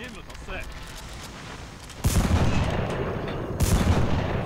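Two sharp cannon blasts from a tank firing at a jeep in the war game Armored Brigade, each a sudden loud boom with a rumbling tail, over a steady battle background.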